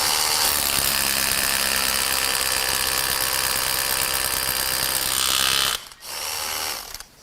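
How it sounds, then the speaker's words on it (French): A hammer drill with a masonry bit bores into stone with a loud, steady, grinding rattle for nearly six seconds. It then cuts out briefly before a short second burst. "je perce avec le perforateur et la mèche à béton pour percer la pierre"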